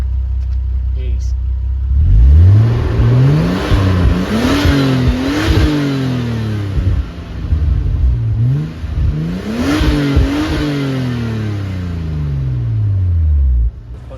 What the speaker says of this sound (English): film a bit of the exhaust noise from the back as well